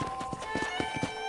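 Hooves of a horse ridden around a ranch in the Red Dead Redemption game, several quick thudding clip-clop beats over a steady game ambience with a faint tonal music bed; no clear neigh stands out.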